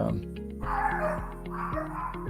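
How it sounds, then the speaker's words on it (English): Several sharp, yappy dog barks ring out in quick irregular bursts, fairly close, over a steady background hum. "if you hear my dogs barking again"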